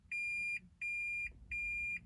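Three evenly spaced electronic beeps, each about half a second long, sound from a Toyota Prius 30 as its reverse gear warning, clear and steady against a quiet background.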